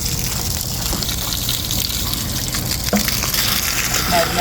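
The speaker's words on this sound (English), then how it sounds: "As soon as we move that, take it out, it's gonna gush." Water gushing out of an RV water heater as the anode rod is pulled, a steady broadband rush of liquid that holds level throughout, with faint voices in the background.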